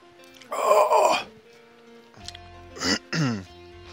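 A person coughs and clears their throat, a harsh rasping burst followed after a pause by two shorter throaty coughs, close up.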